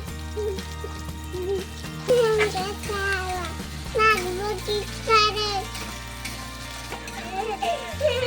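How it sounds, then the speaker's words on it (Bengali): Onion paste frying in a pan for a snakehead fish curry, a continuous close sizzle with stirring, while a person talks over it in several bursts. "পেঁয়াজটা ভাজা হয়ে গেছে"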